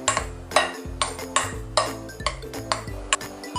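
Mashed potato being mixed with salt and potato starch in a bowl, with a utensil scraping and clinking against the dish in a steady rhythm of short knocks, close and clear with no talking.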